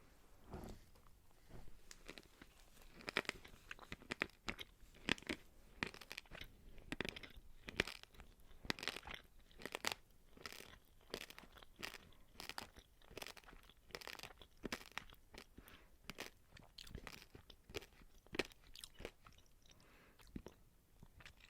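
Close, crisp crunching as fairy bread, buttered bread with sprinkles, is chewed steadily, with rapid irregular bites and crackles, quiet and intimate without talk.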